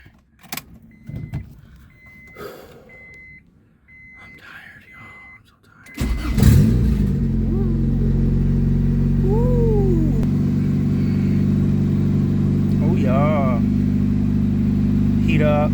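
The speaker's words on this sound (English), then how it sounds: "let's drive this Accord." After some quiet handling and faint voices, a Honda Accord's engine cranks and catches. It then settles into a steady, close idle, with a few brief vocal sounds over it.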